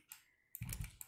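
Computer keys are pressed for a copy-and-paste shortcut during a Python programming lesson: a few quiet, close clicks, then a quick cluster of taps.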